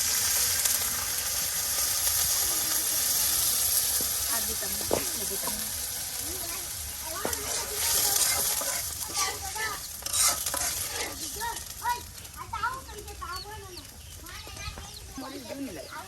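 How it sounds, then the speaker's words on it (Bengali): Water splashes into onion and garlic frying in oil, and a busy crackling sizzle with stirring and clatter carries on throughout, close up, while a voice talks over much of it. "আর এখানে এখন এটাকে আরো ভালো করে কষানোর জন্য কিছু পরিমাণে পানি, এই যে দেখুন পানি দিয়ে দেওয়া হচ্ছে"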